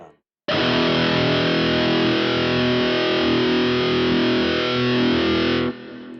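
High-gain electric guitar through a Mesa Boogie Mk IV amp and Ibanez TS10 Tube Screamer, one loud saturated chord starting abruptly and sustaining for about five seconds with evolving upper harmonics, then cut off.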